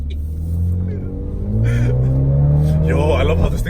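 A Mini John Cooper Works engine revs up and holds a rising, throaty roar on a track, with people talking excitedly over it.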